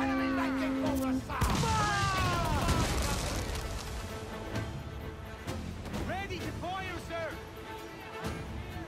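Ship cannons firing in Assassin's Creed IV: Black Flag, heavy booming blasts that roll into a dense, rumbling barrage close at hand, with shouting voices and game sounds over the fading echoes.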